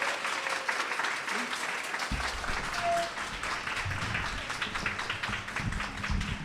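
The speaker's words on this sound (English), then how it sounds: "Please give Danni and Elayne a big round of applause." An audience at a history café event claps for two speakers, a moderate steady applause with some nearby speech and low background rumble mixed in.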